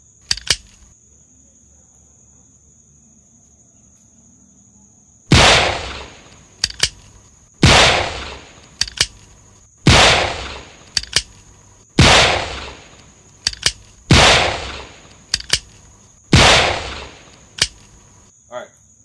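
A prop Colt Detective Special Gen 1 revolver fired single action, six or seven loud sharp reports spaced a second or two apart, each followed by small clicks of cocking, no talk.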